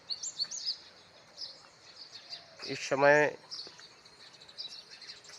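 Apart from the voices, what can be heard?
birds chirping in the morning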